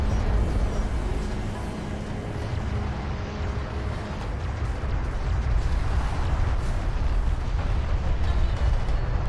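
Heavy artillery and railgun fire roar across a desert battlefield in a Deserts of Kharak campaign mission, making a dense, constant barrage of booms and gunfire with armored vehicles under attack.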